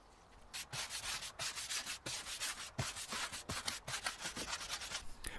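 A stiff Osmo scrubbing brush on a pole scrubs a wooden deck in steady back-and-forth strokes, making a continuous rhythmic rasping that stays close and fairly loud throughout, with no voices.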